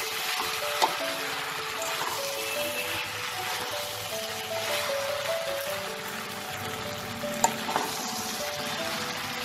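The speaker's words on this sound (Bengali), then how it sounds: "পরিমাণ মতো নুন আর 1 চামচ হলুদ গুঁড়ো দেবো, দিয়ে এটাকে ভালো করে নাড়াচাড়া করে নেব।" Okra frying in a pan with salt and turmeric while being stirred, a steady close sizzle with occasional scraping clicks of the spoon against the pan.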